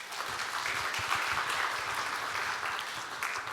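A church congregation claps during a Sunday service to congratulate new members on finishing their course, a soft, moderately distant round of applause held steady throughout.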